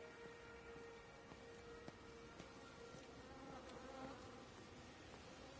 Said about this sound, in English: bees, lots and lots. Bees.